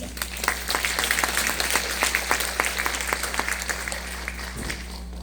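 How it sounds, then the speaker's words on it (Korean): Audience applause welcomes a presenter to the front at a residents' briefing session on a building reconstruction plan. Steady clapping from a room of people continues for about five seconds over a low electrical hum. "큰 박수로 맞이해 주시기 바랍니다."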